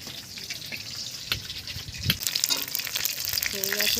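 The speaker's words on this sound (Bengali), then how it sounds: "মাছ ভাজা" Fish sizzle in hot oil in a home kitchen, a soft bubbling crackle with occasional pops and clinks, while a voice speaks briefly over it.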